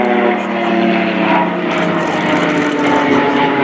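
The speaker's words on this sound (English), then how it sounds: "the PC-7 turboprop training aircraft is not only a fast but also a highly maneuverable aircraft" Swiss Air Force Pilatus PC-7 turboprop trainers make a close crossing flyby at an air display, their loud propeller drone filling the whole stretch with a steady roar that swells and shifts slightly as they pass.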